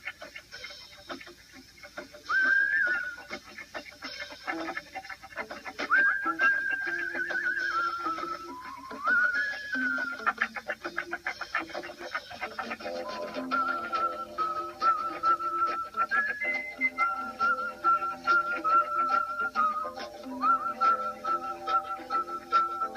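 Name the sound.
whistling in a recorded song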